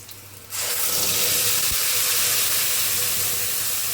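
Spice paste poured into hot oil for tempering on a low flame, a sudden loud hiss that erupts after a quiet moment and holds as a steady, close sizzle.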